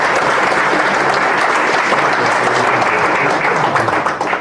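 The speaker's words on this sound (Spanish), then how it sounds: "Les pido un voto de aplauso, por favor." Audience at a judicial-sector event in Bolivia applauding, a dense, steady burst of clapping that holds loud and then tapers slightly at the end.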